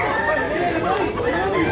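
Roosters crowing among the mingled chatter of a busy Tuesday and Friday chicken market in Consolacion, Cebu, the drawn-out calls overlapping and fairly close over constant crowd noise.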